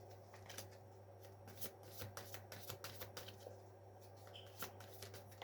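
Tarot cards shuffle quietly up close, with repeated soft riffling and slapping bursts in an uneven rhythm over a low background hum.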